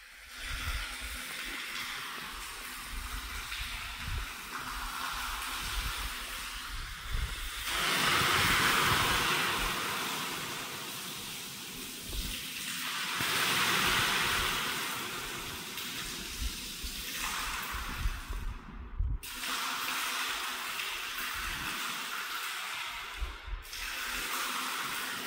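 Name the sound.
water flowing through village water tank pipes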